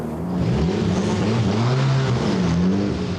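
A race car lapping a track in qualifying, its engine droning steadily and rising in pitch through gear changes, heard close and loud from on board.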